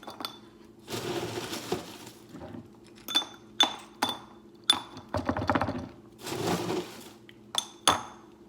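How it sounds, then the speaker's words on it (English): Ice cubes clinking into a glass for a coconut mojito, a run of bright, sharp clinks and rattles in bursts, some closer and louder, with no talking. "you add cubes of ice"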